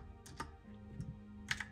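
Typing a search on a computer keyboard: a few soft, close keystroke clicks, sparse at first and then a quick cluster near the end, with no talk.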